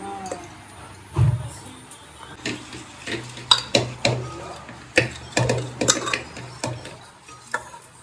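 Sugar being worked by hand into palm pitha batter in a bowl, with a series of irregular knocks, scrapes and clinks of the bowl and utensil, some louder taps standing out against faint room noise.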